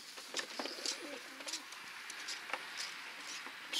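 Racing pigeons, including a speckled cock of Van den Avele × Schellens lineage, giving several soft low coos close by amid light shuffling and wing patter.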